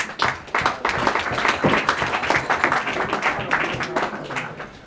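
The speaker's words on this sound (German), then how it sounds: "Bitte Applaus." A room of people applauds at an ice hockey press conference, a burst of clapping that swells quickly, holds steady and slowly thins toward the end, with no talking.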